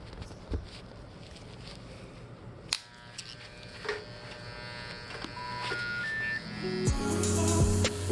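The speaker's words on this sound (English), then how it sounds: "This is the part where I do the edge up with my modified Andis edgers." Modified Andis edger trimmer buzzing close up during a haircut edge-up, a steady electric hum with small bumps of handling and a louder stretch near the end, no speech.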